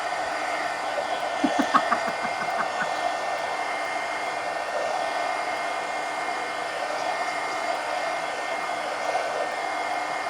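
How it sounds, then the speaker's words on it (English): A heat gun blows steadily over wet paint on a portrait, a constant close whooshing roar of hot air with brief clicking at the start, running alone without pause. "let me hit it with the heat gun"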